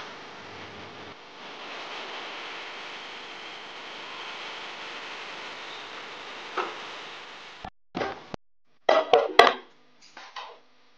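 Chingri mocha ghonto, a spiced banana flower and prawn curry, cooks with a steady soft hiss, then a utensil stirring in the pan gives sudden loud clatters, scrapes and knocks near the end.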